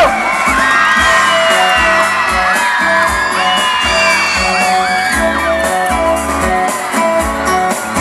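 A large concert crowd at a live show screaming and cheering loudly, with whoops and yells going on throughout, alongside a pounding rhythmic beat and a few voices.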